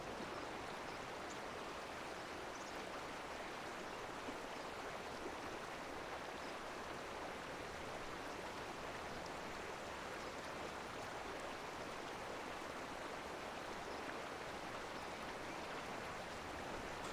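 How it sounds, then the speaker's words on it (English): Flowing river ambience from the Cauldron Chronicles video game, a continuous, even rush of water with no breaks or changes, faint and steady throughout. "This river still sounds way too calm for how fast it's moving."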